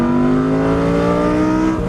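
A Lamborghini Gallardo engine revs hard under full throttle in second gear, a loud, close, steady roar with a sustained droning tone through the whole stretch and no talking.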